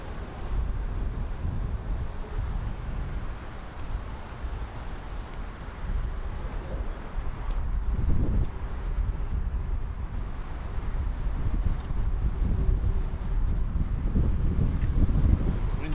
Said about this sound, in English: wind's really picked up here.